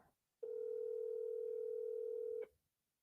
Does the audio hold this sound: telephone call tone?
yes